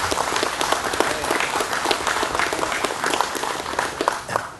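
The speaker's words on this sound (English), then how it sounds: "So Ann Northcutt, you need a great big round of applause." Dense applause from an audience at a fire station dedication ceremony, many hands clapping steadily and fairly close for the whole stretch, with a few faint voices mixed in.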